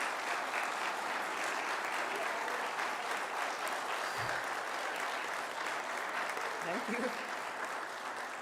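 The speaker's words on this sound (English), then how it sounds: "All, can you please join me in a round of applause to congratulate Holly?" A graduation audience at a practical nursing school claps for Holly in a steady, moderately distant round of applause, and a voice briefly speaks over it.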